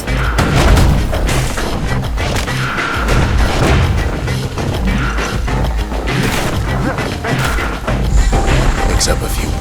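Emergency defenses open fire in the video game Bastion, a dense barrage of heavy booms, crashes and thuds pounding almost nonstop over a steady roar, with a few brief tonal chimes mixed in.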